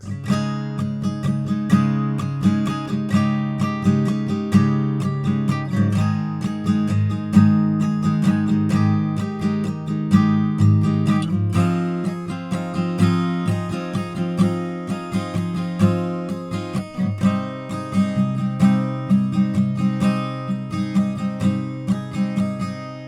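An acoustic guitar fingerpicks the chorus of a song in standard tuning, a steady, close and clear strummed-and-plucked chord progression playing alone with no voice.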